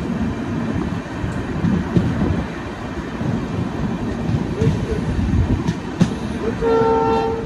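The Gomateshwara Express on the monsoon route from Bangalore to Mangalore through the Western Ghats rumbles and clatters steadily up close, then sounds a sustained horn in the final second.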